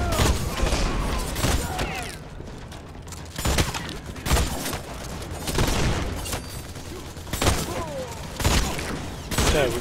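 Bursts of gunfire from The Expendables 2 video game tear through objects, with rapid volleys and thudding impacts repeating every second or two, loud and close, while voices talk in between.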